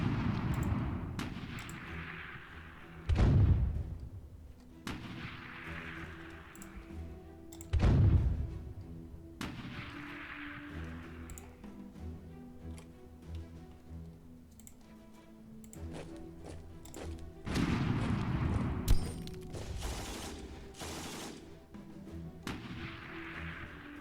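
Booming artillery blasts of a 15 centimetre gun in the wargame Klotzen Panzer Battles, several distinct heavy shots a few seconds apart over quiet background with faint clicking between.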